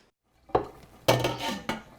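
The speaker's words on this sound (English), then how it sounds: "Abeng Kucha Tir cooks her favorite Sudanese dishes for friends and family" Pots and dishes clanking while Sudanese food is cooked in a home kitchen: a few sharp metallic knocks and clatters following a brief silence, close and moderately loud, with no voices.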